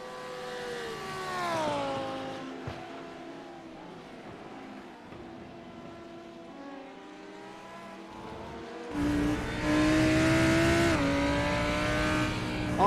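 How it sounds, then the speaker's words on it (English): Onboard Lamborghini race car engine from a racing video game, loud and close, with the engine note sweeping up and down through gear changes, swelling sharply near the end as it accelerates hard. "On board a very loud Lamborghini"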